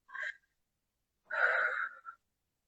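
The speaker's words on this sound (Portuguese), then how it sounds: "Uma respiração profunda." A person takes a deep breath, a short airy intake followed after a pause by a longer, breathy exhale, quiet and close, with no talking.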